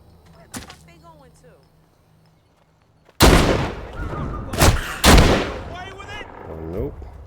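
Loud shotgun blasts in the VR zombie game Walking Dead Saints and Sinners, three heavy booming reports within a couple of seconds, preceded by quieter sounds and with a voice talking around them.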